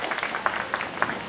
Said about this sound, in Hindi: ताली बजाओ उन सबके नाम पर